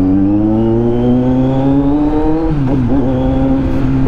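Motorbike suited to beginner racing revs steadily up close, its engine note climbing smoothly for a few seconds, then dipping and wavering before settling into a steady drone, with no voices over it.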